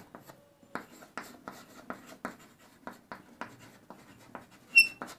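Pen strokes while a definition of determinants is written out for a Class 12 maths lesson: a quick series of close, distinct scratchy strokes in an irregular rhythm, with a brief squeak near the end and no voice.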